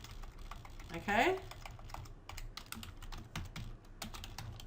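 Light, rapid clicking of a computer keyboard runs through the whole stretch, soft and close, with a brief spoken word early on.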